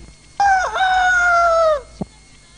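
A rooster crows once, loud and close: a long, drawn-out cock-a-doodle-doo with a wavering start, followed by a brief faint squawk.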